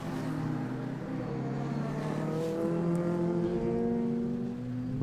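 Formula 3 race car engine at full song on a racing circuit, a loud continuous high-revving drone with rising and shifting harmonic pitches as it accelerates and changes gear, sustained throughout.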